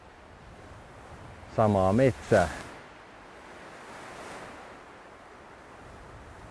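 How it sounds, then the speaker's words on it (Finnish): Wind gusts through a winter forest near a lake, a steady broadband rush with the trees swaying, continuing under and after a brief spoken phrase. "Toivottavasti toi tuuli kuuluu sinnekin. Täällä puut heiluu."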